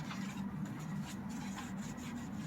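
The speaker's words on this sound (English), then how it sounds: "the NanoSkin scrub sponge is not like an SOS pad" A NanoSkin scrub sponge works over filthy, badly neglected car wheels, giving a steady, continuous rasping rub that stays fairly quiet and close with no talking.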